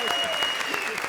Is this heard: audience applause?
yes